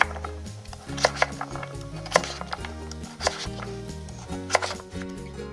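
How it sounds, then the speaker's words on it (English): A knife chops through diced squash on a cutting board in a home kitchen, giving a series of sharp, irregular knocks over steady soft background music. "Now that the squash is diced"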